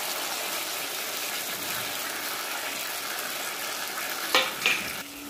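Ground masala spices fry in a pan for fish masala, a loud, steady sizzle running throughout, with a couple of brief scraping stirs near the end.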